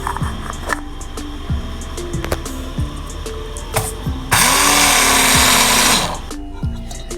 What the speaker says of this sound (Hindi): इन सारी चीज़ों को हमने ड्राई रोस्ट कर लिया है, तो अब हम इसे ग्राइंड करेंगे